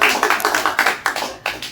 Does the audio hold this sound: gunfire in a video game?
no